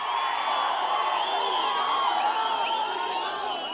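A large crowd at a political rally cheers in a loud, sustained roar dotted with whistles and shouts, keeping up without a break from start to end.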